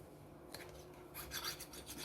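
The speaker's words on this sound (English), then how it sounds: "I'll just cut the excess pastry off" A knife trims excess pastry from the edge of a homemade meat and potato pie, giving a soft scraping rasp that starts faintly and swells into a few louder strokes near the end, close up with no talking.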